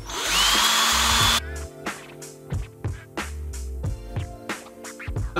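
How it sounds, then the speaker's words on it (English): A power drill bores holes in a cooler lid: one loud sustained whine at first, then a run of short, choppy bursts of drilling and grinding, close and fairly loud. "Now I'm gonna be taking the lid and drilling a bunch of holes in it."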